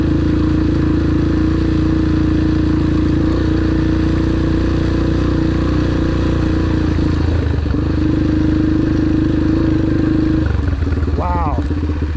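A 2003 Yamaha TT125 beginner dirt bike engine runs close by, a steady buzzing drone with a brief dip near the end before revving back up, loud and continuous throughout.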